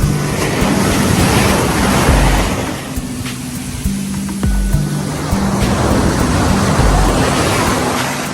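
Strong ocean surf crashes and roars nonstop at a beach, loud and close, with heavy wind rumbling against the microphone.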